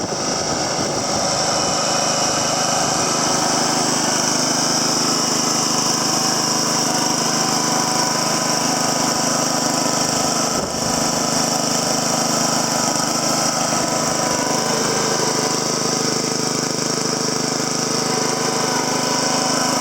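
A Honda HRM215 SX Harmony lawn mower engine runs steadily at a constant speed, a loud, even buzzing drone with a bright, whiny edge, close up and with no talking.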